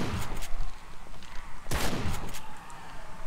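Gunshots in the game 7 Days to Die, Alpha 10, a couple of sharp, fairly close cracks, one strong blast near the middle, over a noisy outdoor background with no talking.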